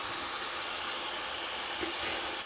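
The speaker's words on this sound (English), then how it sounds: "now I'm going to let that sit there and fry for another 4 or 5 minutes" Smash burger patties topped with tomato and onion frying on a griddle, giving a faint, steady sizzling hiss that runs evenly with no talking.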